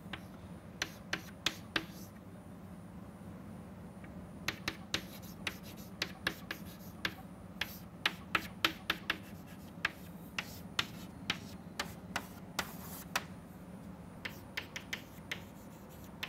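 Chalk or marker strokes from a lecturer writing an equation by hand, a steady run of sharp taps and scratches in bursts over a low constant hum, with pauses between groups of strokes.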